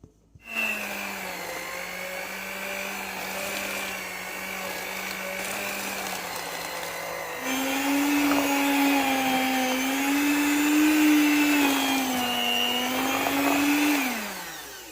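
Electric mixer beating cookie batter for sesame and cashew cookies, a steady whining motor hum running continuously for about fifteen seconds, rising in pitch and loudness partway through, then winding down at the end.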